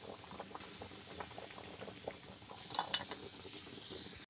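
A pot boiling over a wood fire, a soft continuous bubbling and gentle crackle at close range, with one or two brief clinks near the end.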